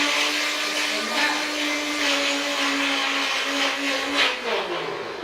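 NutriBullet blender whirring loudly as it blends a stress reset juice, a steady close motor drone with a slight pitch dip near the end, no talk over it.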